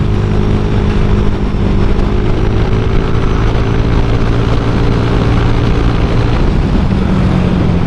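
An older Honda Vario 125 scooter on a test ride gives a steady, close engine drone with road and wind rumble, holding an even level throughout with no talking.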